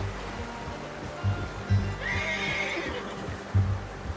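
A horse whinnies in Red Dead Redemption 2, a rising, bright neigh near the middle of the clip over a low ambient bed with soft thuds that could be hoofbeats.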